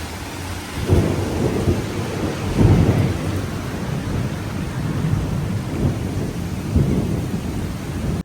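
Heavy monsoon rain pours steadily in the desert while low rumbles of thunder roll through, swelling a few times, with no voices.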